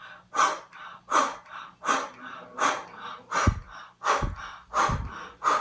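Forceful rhythmic blow breaths in a breathing exercise, about eight sharp exhalations and inhalations at a steady quick pace, close and loud, with no talking.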